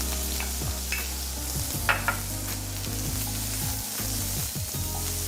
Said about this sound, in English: And then you add your onions